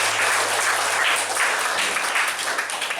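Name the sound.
applause for the speaker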